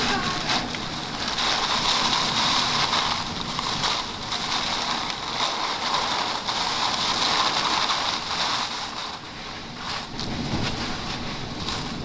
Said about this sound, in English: Those are huge gusts.